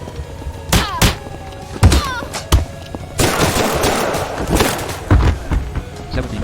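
Gunfire in the video game Scarlet Shell, a series of sharp close shots and thuds spaced irregularly, with a denser burst of rattling fire in the middle.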